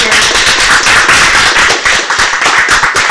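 A conference audience claps in a small round of applause, dense and steady throughout with no talking over it.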